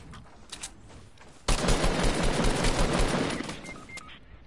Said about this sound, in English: other people are shooting at me